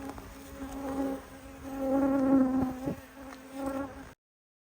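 Honeybees buzzing close by at a hive, a droning hum that swells and fades as individual bees pass near.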